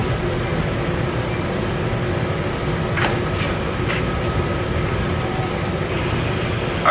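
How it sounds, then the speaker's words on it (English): A northbound San Joaquin passenger train under way, heard from inside the carriage as a continuous low rumble and rattle with steady rolling noise, a few brief metallic clicks and squeals rising over it. "welcome aboard 713 northbound San Joaquin train"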